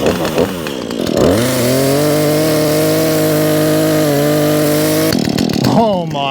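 Husqvarna 135 chainsaw, a small older saw, revving hard and cutting steadily into a tree stump for several seconds, loud and close, with brief idle and rev changes before and after the cut.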